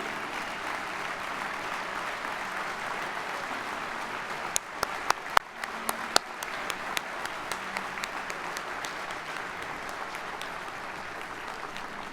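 An audience applauds the 2022 American Spirit Award honorees at an evening awards ceremony. The clapping is dense and sustained throughout, with a few sharper individual claps standing out near the middle.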